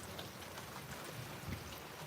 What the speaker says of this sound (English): I hadn't planned on it raining all day, though